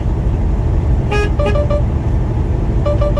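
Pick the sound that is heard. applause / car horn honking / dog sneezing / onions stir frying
car horn honking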